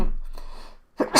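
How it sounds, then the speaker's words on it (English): A person sneezes once, a quiet intake of breath followed by a sharp, loud burst at the end, close to the microphone. "Sneeze."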